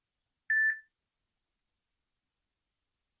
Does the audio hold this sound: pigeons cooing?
no